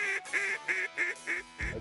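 Ducks or geese call in a series of about six short honking notes at a steady rhythm, fairly clear and close, over a duck impoundment planted with food crops in Bolivar County, Mississippi.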